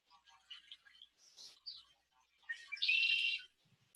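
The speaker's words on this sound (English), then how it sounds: "There's a bird outside," A bird calls outdoors in a few short, faint chirps scattered through the first half, then a louder sustained trill near the end, with no one talking.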